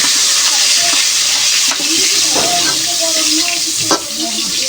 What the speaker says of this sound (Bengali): লাল লাল করে বেগুনগুলো ভেজে নেব।